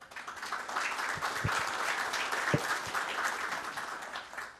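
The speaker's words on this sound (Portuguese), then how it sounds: "quem eu peço também uma salva de palmas." An audience applauds a speaker at a Brazilian innovation morning event, a steady room-filling wash of clapping with a few louder individual claps standing out, fading slightly toward the end.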